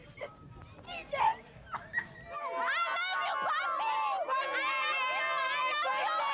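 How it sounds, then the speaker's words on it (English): An excited crowd of fans cheers and shrieks in high, overlapping voices, loud and sustained, following a few seconds of closer chatter and shouting. "It's an incredible crowd."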